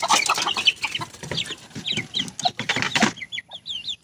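A native Filipino chicken clucks in a run of close, loud, choppy calls, followed by a few sharper higher notes after a brief lull near the end.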